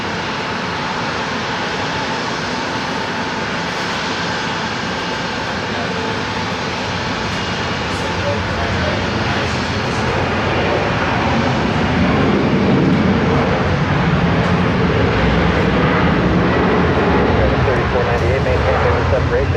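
An American Airlines Boeing 757 jet departs from runway 34 right at Seattle-Tacoma International Airport, a loud, continuous broadband engine roar that swells slightly over the span and holds steady throughout.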